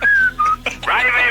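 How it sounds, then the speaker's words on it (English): A person whistles two short steady notes, then a wavering, sliding whistle follows after a brief pause, close and clear on a radio broadcast. "Do that whistle again."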